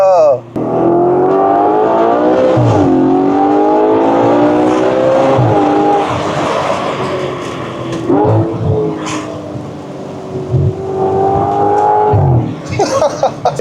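A car engine revs hard near 8000 rpm, its rising and falling harmonic whine loud and close throughout, with brief dips between pulls and people exclaiming over it.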